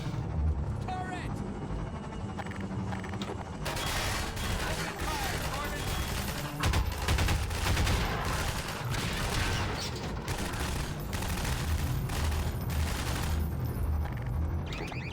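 Automated turret in the PC game Half-Life 2 firing in dense, loud bursts of gunfire mixed with booms and game noise, with a person talking over the shooting.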